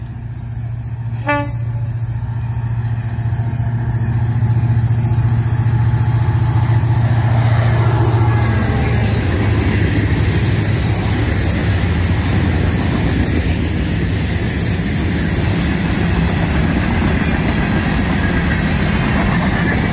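A freight train led by a GP40-2 locomotive rumbles past close by, a steady low drone of the locomotive with a brief horn toot early on, then continuous rolling wheel noise.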